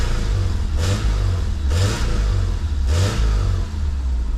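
A used car's engine runs loud and close, holding a steady idle between three distinct revs that swell and fall back at roughly even intervals.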